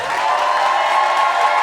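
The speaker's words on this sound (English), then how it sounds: "break a world record for the world's loudest ever applause and loudest ever cheers" A large live audience roars with sustained applause and cheering for a ninety-year-old cabaret singer taking the stage, a dense, steady wall of clapping and whoops held at full volume throughout.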